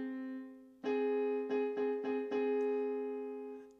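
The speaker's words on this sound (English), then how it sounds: "This interval is the minor 6th." A minor sixth interval sounds as two pitched tones together, struck as a chord and then re-articulated in several quick repeated attacks before ringing out, clear and alone.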